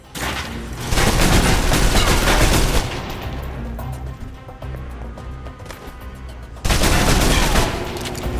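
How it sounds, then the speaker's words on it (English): Submachine gun fire in the video game Alpha Protocol: loud, sustained rapid bursts in close quarters, a quieter stretch of scattered shots, then another dense burst near the end. "If you're trapped in close quarters with multiple opponents, the SMGs can help clear the room quickly"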